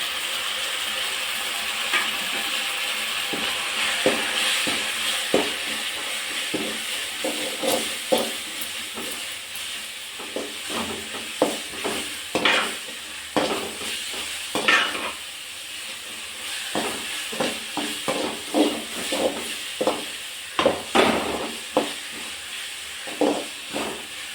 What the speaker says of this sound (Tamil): நல்லா அந்த இஞ்சி பூண்டோட பச்சை வாசனை எல்லாம் போகிற அளவுக்கு நல்லா வறுத்துக்கணும்.